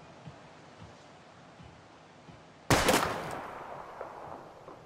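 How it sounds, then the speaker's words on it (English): A single sharp gunshot in the video game Life is Strange, fired at a bottle, cracks loudly once over a quiet background and fades away. "We're gonna shoot all these bottles without wasting a single bullet."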